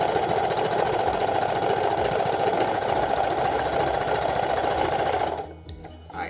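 Sewing machine stitching long quilt strips together for a Bargello quilt: a loud, fast, continuous whirring hum close up for about five seconds, then stopping abruptly, leaving light fabric handling noises.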